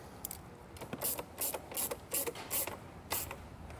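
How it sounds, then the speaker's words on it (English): A ratchet tightens a nut under a 2024 Kia Telluride during a powered tail light converter install, giving a close run of quick clicking pawl strokes in short bursts with brief pauses, no talking. "Get the nut started again, and we'll tighten it back down."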